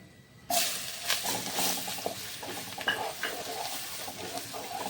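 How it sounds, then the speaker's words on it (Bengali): Chopped onion dropped into hot oil with bay leaf, cardamom, cloves and cinnamon for prawn malai curry, bursting into a loud sizzle after a brief quiet start, then crackling steadily while a spoon scrapes and stirs the pan. "আর এখন দেব পেঁয়াজ কুচি।"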